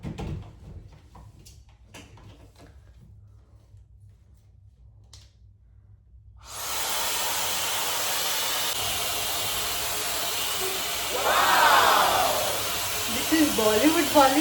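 A hot air comb hair dryer switches on halfway through, its fan mode producing a loud, steady whooshing hiss close by that continues to the end, growing slightly stronger near the finish.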